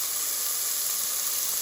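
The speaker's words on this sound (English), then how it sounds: "I'm going to go ahead and keep stirring this until it's a little bit brown and crispy" Salt pork bacon fries in a pan while being stirred, giving a steady, close, bright hiss and sizzle with no talking.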